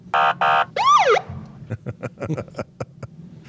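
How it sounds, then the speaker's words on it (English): A brief electronic police siren: two steady blasts then a rising-falling wail, followed by quiet clicks and faint chuckling. "Can you just play the siren sound again?"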